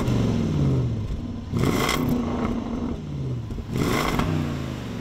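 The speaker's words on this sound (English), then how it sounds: "if that exhaust note didn't catch your ear, here's more" Supercharged 5-liter V8 in a 2023 Land Rover Defender 110 revs hard twice, each blip a loud rising exhaust bark falling back to a burbling idle.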